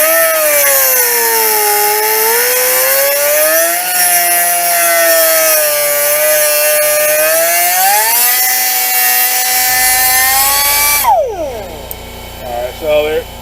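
On a 2007 Kia Sportage, an air-powered cutting tool slices a relief into a front wheel bearing, a loud continuous high whine that shifts pitch with the load before winding down near the end, no voices.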